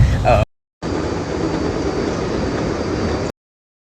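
Steady rumbling ride aboard an airport train in Chicago, a constant even roar with a faint high whine held for a few seconds, cut off cleanly at start and end, with a brief voice at the beginning.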